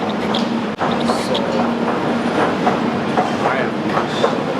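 A train carriage on the way to Wolverhampton rolls along with a loud steady rumble, clickety-clack and brief squeals, and there is a short thump near the start and some speech in the background.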